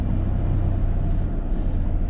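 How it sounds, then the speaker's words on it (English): A Nissan Xterra engine started up and running, a steady, close low rumble that holds evenly without a break for the whole stretch, with no voices. "So now we just want to start the vehicle"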